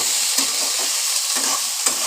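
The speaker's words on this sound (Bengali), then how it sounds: "এবার আমি ভালো করে এগুলো একসঙ্গে ভাজা ভাজা করব" Potatoes and puimitul (Malabar spinach seeds) frying in a pan with salt and turmeric, a steady close sizzle with a few sharp scraping stirs of the spatula at regular intervals.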